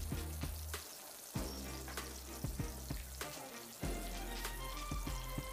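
Green chillies and curry leaves fry in hot oil in a kadai, a steady close sizzle with scattered pops and crackles and a few clinks of stirring, no voices.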